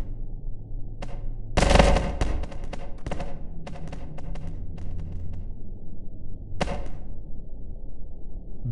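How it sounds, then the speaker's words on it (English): A mini or ray blaster firing in the Melon Playground game, sharp electronic zaps fired in a quick burst of several shots, then scattered single shots and one more loud blast, over a low steady hum. "Mini blaster or ray blaster."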